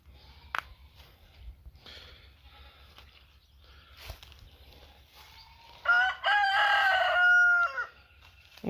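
Chickens cluck faintly and intermittently in the distance before a rooster lets out a loud, drawn-out crow near the end, against a low outdoor rumble.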